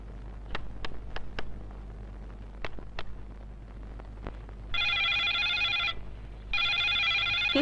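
A telephone rings in a scene from the Bangla action film Goyenda, with two bursts of loud electronic ringing after a series of sharp knocks or footsteps against a low hum.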